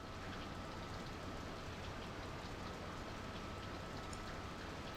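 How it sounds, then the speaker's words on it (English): Steady rain in the video game Skies of Arcadia: Legends, a dense continuous patter and hiss, soft and even from start to finish with no voices. "It's been raining all day."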